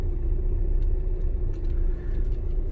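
A car being driven for a driving lesson gives a steady, close engine rumble with low road noise throughout, no voices.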